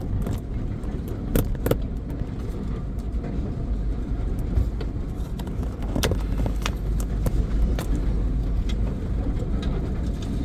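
A rental car driving along a road to a beach in Foui, Kingdom of Tonga, its steady low rumble heard from inside the cabin, with interior rattles and clicks scattered throughout and no talking.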